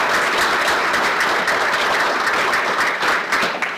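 Applause for former USHL junior hockey players, a dense, steady wash of clapping from a sizable crowd that stays loud throughout before easing slightly at the end.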